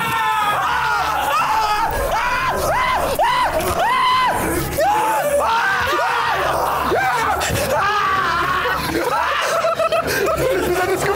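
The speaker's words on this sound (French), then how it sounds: "Arrête de crier comme ça." Young men scream and yell inside a haunted house at night, with loud overlapping shrieks, shouts and nervous laughter close by, continuous throughout.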